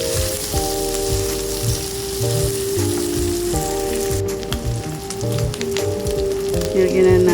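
Ginger, garlic, onion and pork sizzle steadily as they sauté in a hot pan, with a constant frying hiss, occasional stirring scrapes and a voice talking over it.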